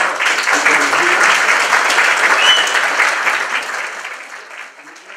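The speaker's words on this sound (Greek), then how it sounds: "θέλω ένα χειροκρότημα στα παιδιά του Κολεγίου." A loud, close crowd at a conference in a concert hall in Athens applauds a children's college choir. The dense clapping is sustained for several seconds and then tapers off toward the end.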